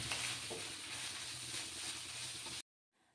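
Chicken with onions, turmeric, chili and pepper powder fries in a pan for homemade shawarma filling, a steady close hiss and sizzle that cuts off abruptly near the end.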